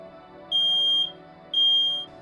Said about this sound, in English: So test your smoke alarms every month.